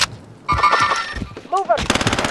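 Automatic gunfire bursts in Call of Duty Warzone Resurgence on the Caldera map, several loud rapid volleys with short pauses, mixed with game effects and brief voice chatter.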